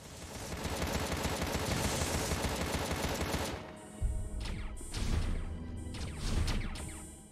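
Automated turrets firing in Contra: Rogue Corps, a dense stream of rapid gunfire at first, then separate sharp bursts and impacts after a brief drop in level.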